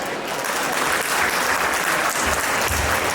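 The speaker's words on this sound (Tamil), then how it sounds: "மீண்டும் ஒரு பலத்த கரகோஷம்" Loud, dense applause from a temple audience welcoming a speaker at Dallas Mariamman Temple in Texas, a steady roar of many hands that holds at full strength from start to finish.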